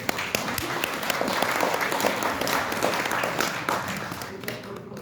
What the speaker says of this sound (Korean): 박수로 좀 맞이해 주십시오